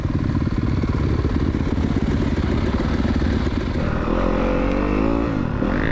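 A motorbike riding a singletrack trail, its engine loud and close throughout with a rough continuous drone that shifts pitch as the rider works the throttle, with rattling and clatter over the terrain.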